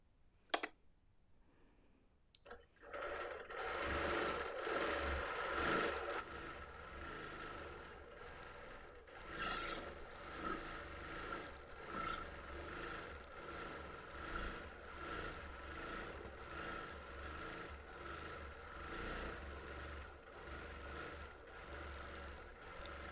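A sewing machine free-motion quilts a Lori Holt sampler quilt. After a quiet start with a couple of sharp clicks, the motor runs in a steady, moderately loud whir that speeds and slows through the pass.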